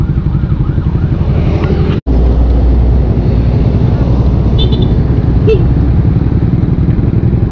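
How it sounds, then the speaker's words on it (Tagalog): A motorcycle engine idles roughly and keeps running unevenly, sputtering and choking as if hiccuping when throttled and losing power, with a brief dropout partway through and faint chirps from nearby. "kapag pinihit mo yung silinyador, para siyang nabubulunan or sinisinok"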